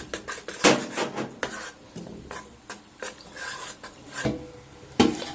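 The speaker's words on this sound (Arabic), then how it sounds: "احط فيها 3 معالق نشا واقلبهم ادوبهم فيها." Spoonfuls of cornstarch being stirred into half a cup of milk for caramel pudding, a spoon clinking and scraping against the cup in irregular knocks and swishes, close and moderately loud with no talking.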